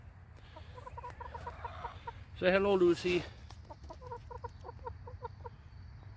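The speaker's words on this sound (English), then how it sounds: "And here's our chicken coop." Chickens cluck softly in a backyard coop in an Indiana permaculture garden, giving scattered short calls and one louder squawking burst, with a person speaking briefly nearby.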